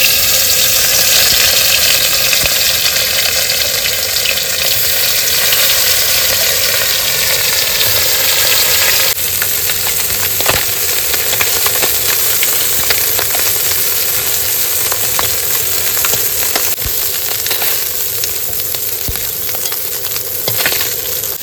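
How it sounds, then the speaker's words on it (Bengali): Fish frying in hot oil outdoors on a riverbank, a steady loud sizzle and crackle running continuously with occasional sharper pops and stirring scrapes. "এখন কিন্তু মাছগুলো এক এক করে ভেজে নেবো।"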